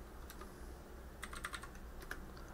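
Soft keystrokes on a computer keyboard tap out a short word, a few scattered clicks then a quick cluster, faint and close in a quiet room.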